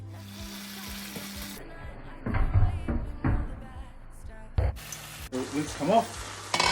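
Coconut chicken with spinach sizzles and fries loudly in a pan, with bursts of stirring, while a person speaks briefly over it.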